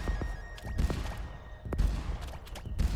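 Cannons fire in a Fall Guys level in rapid, irregular bursts of booms and thumps, with a steady tone in the background.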